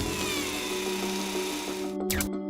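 The Curiosity Mars rover drills a 1.6-centimeter shaft into Martian rock, heard as a steady, droning mechanical whir with a constant hum that cuts off near the end, followed by a brief swooping sound.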